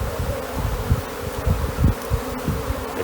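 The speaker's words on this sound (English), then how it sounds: "That will be enough to encourage the other bees to go in." Honey bees from a swarm buzzing at the entrance of a modular hive, a dense continuous drone with small pulses of individual bees passing close by, steady and fairly loud, with no talk.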